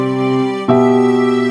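Electronic keyboard sounding a sustained piano chord, then a fuller chord with a string voice layered beneath it partway through, held steadily and close with no talking.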